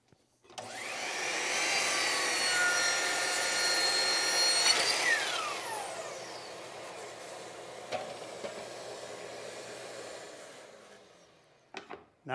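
A power saw cuts the end off a wooden board for a box, a loud, whining buzz that starts abruptly, holds for several seconds, then winds down as the blade coasts to a stop, ending with a couple of clicks.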